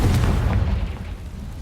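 Confringo blasting spell bursting in Hogwarts Legacy, a loud, close, deep boom at the start whose rumbling tail fades over the next second and a half, with no voices.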